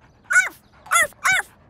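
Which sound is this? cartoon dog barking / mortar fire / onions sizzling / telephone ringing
cartoon dog barking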